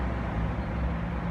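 Road traffic passes close beside a parked car at the roadside, a steady broadband rumble and hiss of vehicles with no gaps and no voices.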